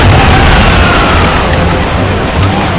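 Ship cannon fire during a naval battle in the video game Assassin's Creed Rogue: loud, continuous booming broadside rumble filling the whole stretch, with shouted crew voices faintly mixed beneath the barrage.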